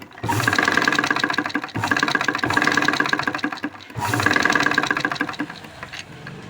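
A sewing machine stitches a boat neck blouse in three loud bursts of rapid, even mechanical whirring with brief pauses between them, close up and with no voices.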